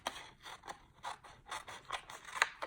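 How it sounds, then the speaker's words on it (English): Scissors snipping through patterned paper for a handmade easel card, a quick run of about ten crisp close cuts in an uneven rhythm, quiet and with no voices. "You do want to cut with your scissors the three jars that you want"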